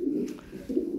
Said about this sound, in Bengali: 4-5 পেয়ার কবুতর আসছে, খুবই চমৎকার